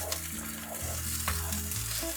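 Tomato puree fries and sizzles in a pan over ginger, garlic and green chili paste for an egg potato curry, a loud, steady close hiss with stirring, under background music and without talk.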